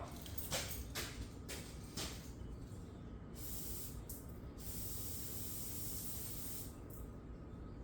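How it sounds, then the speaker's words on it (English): A long continuous brake cleaner aerosol spray on a Shovelhead motorcycle hisses steadily, with brief pauses and bursts near the start, close to the microphone. "I guess I'm gonna have to spray it off."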